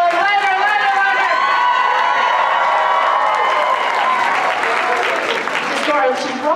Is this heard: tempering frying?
no